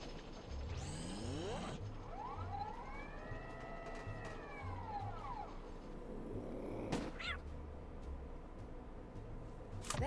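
A cat gives a long rising-and-falling meow, then a shorter one, over a soft ratcheting, mechanical clicking in a quiet room, with no one talking.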